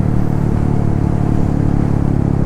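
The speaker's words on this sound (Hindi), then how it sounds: "तो इस डिसेंट पे देखना मैं जस्ट इंजन ब्रेकिंग करूँगा," A motorcycle engine hums at steady low revs while engine braking on a mountain descent, a continuous close rumble with no acceleration.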